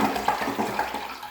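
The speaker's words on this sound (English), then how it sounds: "you use the commode and flush it, and then the water does not come back in the tank" A household toilet being flushed, a short close burst of rushing, gurgling water filling the whole moment at steady loudness, with no voices.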